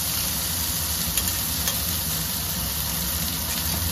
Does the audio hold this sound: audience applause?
no